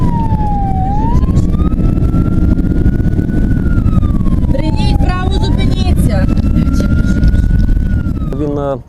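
A patrol police car's siren wails loud and close during a chase after a driver who ignored the signal to stop, its rising and falling sweep running without a break over heavy road and engine rumble.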